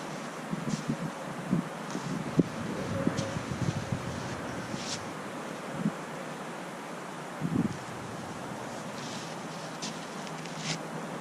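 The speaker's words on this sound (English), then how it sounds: "A little windy." Steady wind gusts roar across the microphone, with low rumbling buffeting and a few brief rustles and thumps throughout.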